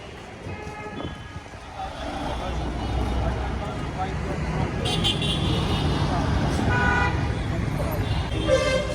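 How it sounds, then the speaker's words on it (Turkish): Busy street traffic in Bangladesh rumbles with engines and repeated short car horn toots, near and far, while someone talks over the noise throughout. "Şimdi karşıya geçmem lazım ama trafikte bayağı bir sıkıntılı."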